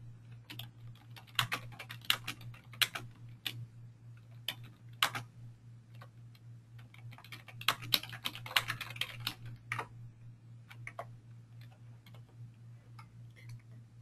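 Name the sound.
typing a comment on a computer keyboard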